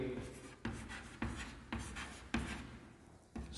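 A pen writes out the worked solution to a linear-equation maths problem, producing a run of scratchy strokes in regular bursts, close and fairly loud, with short pauses between lines.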